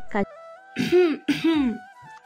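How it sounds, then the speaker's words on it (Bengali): A person coughs and clears their throat a couple of times, close and fairly loud, as a sound effect in a romantic audio drama. "হঠাৎ কারোর কাশির শব্দে ঘোর কাটল তাদের"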